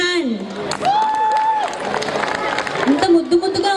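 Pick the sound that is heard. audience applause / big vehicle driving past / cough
audience applause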